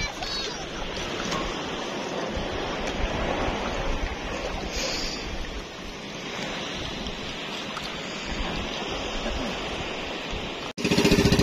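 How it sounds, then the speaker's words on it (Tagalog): Ocean waves roll steadily at a seaside spot, a broad continuous wash of surf mixed with wind buffeting the microphone, holding at an even level before a sudden louder burst at the end. "Malang alon dito."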